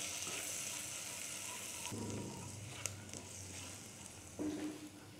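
Finely chopped garlic sautés in a pan for a cheesy pasta bun recipe, giving a faint, steady sizzle with a few soft scraping stirs and light clicks.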